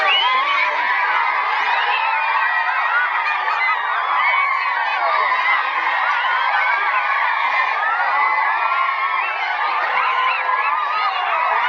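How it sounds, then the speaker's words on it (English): Crowd of children screaming and shouting together at a rural village school in Madagascar, a loud, continuous high-pitched din that holds steady throughout. "The kids were all screaming."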